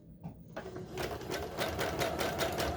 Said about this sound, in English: I'm going to go around and I'm going to zigzag just to the stitch line, which keeps this from unraveling